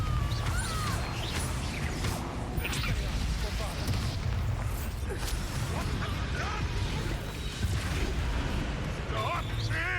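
Confringo blasting spell detonating in Hogwarts Legacy, heard as booming, crashing blasts and whooshes over a dense, steady bed of game noise.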